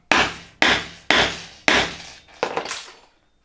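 A hammer strikes a metal punch to spread an aluminium rivet set on a block, four sharp, loud, evenly spaced metallic blows followed by a slightly rougher fifth, each ringing briefly before fading, close up with no talking.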